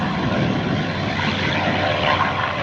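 A P-51 Mustang's engine roars steadily on takeoff with a rough, throaty drone, loud and close, no voices over it.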